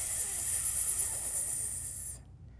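Children imitate a snake's hiss during a kids' yoga pose, a steady breathy hiss held for about two seconds before cutting off into quiet.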